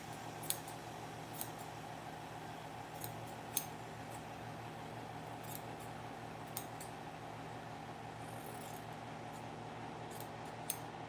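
Sewing scissors, freshly sharpened, make faint, sparse snipping clicks spaced a second or two apart over a quiet room hum.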